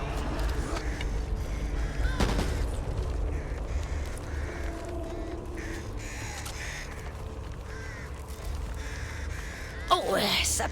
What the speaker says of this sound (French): Attention aux oiseaux.